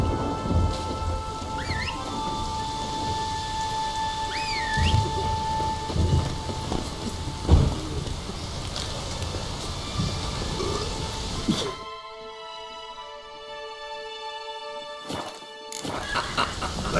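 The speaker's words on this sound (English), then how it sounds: "Storm, damn it." A video game thunderstorm fills the scene with steady heavy rain and rumbling thunder, with scattered cracks and booms and a brief dropout near the end.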